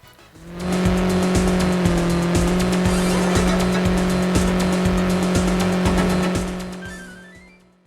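Cars race in an early PlayStation racing video game from 1994, with a loud, continuous engine whine and squealing tires that hold steady for several seconds, then fade out at the end.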